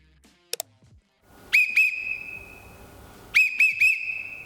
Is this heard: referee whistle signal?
yes